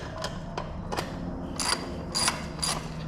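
A 9/16 wrench loosens an exhaust pipe clamp on an aftermarket exhaust, with close metallic clicks followed by brighter ratcheting bursts near the end, and no talking.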